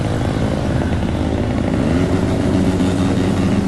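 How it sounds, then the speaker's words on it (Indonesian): A group of motorcycles with loud open knalpot brong exhausts circling a town square, a continuous thick engine roar that stays close and loud throughout with no talk. "Dengan menggunakan knalpot brong, mereka berputar-putar sekitar alun-alun"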